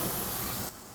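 Hamburger patties sizzle on a piping hot grill, a dense broadband hiss that runs steadily and then drops abruptly to a quieter sizzle near the end, with no voices.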